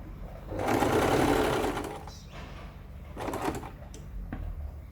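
A sewing machine stitching along the side of a cloth mask, a close, loud whirring run of rapid needle strokes that eases off, then starts again in shorter bursts.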